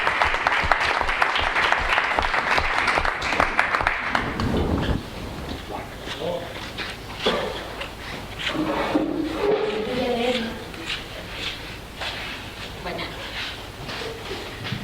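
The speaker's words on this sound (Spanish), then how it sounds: "Un aplauso para ella." Audience applause at a Spanish book presentation and tribute event, a dense burst of clapping for the first few seconds that fades out as talking and room noise take over.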